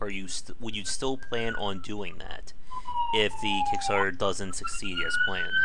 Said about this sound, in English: Sorry for the sirens here.